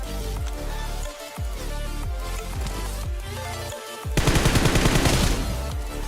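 Bursts of gunfire ring out in the video game PUBG, with rapid repeated shots in short volleys separated by brief pauses, ending in a denser sustained burst of automatic fire.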